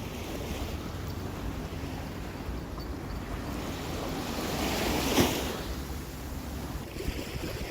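Ocean waves wash steadily along a Hawaiian residential shoreline, a continuous broad rush with wind noise on the microphone and one brief louder surge midway.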